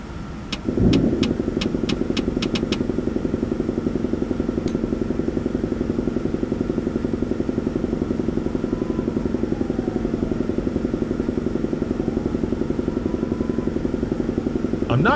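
A New York Line 7 subway train in World of Subways 4 starting up, with a few sharp clicks at the start giving way to a loud, steady motor drone and a faint rising whine.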